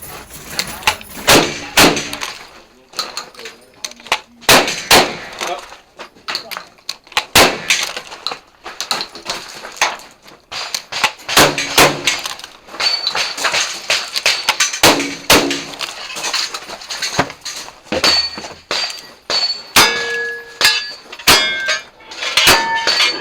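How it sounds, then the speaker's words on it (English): Shotgun blasts and metallic clangs ring out as targets and steel knockdown plates are engaged on a cowboy action shooting stage, loud and sharp in a rapid, irregular sequence lasting about twenty seconds. "engage the shotgun targets from the 4 openings, then push down the large tombstone and engage the knockdown plates until down"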